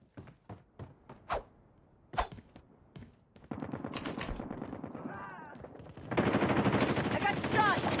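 Gunfire from the mobile shooter game Call of Duty Mobile: a few sharp separate shots, then sustained rapid automatic bursts that grow denser and louder, mixed with game effects.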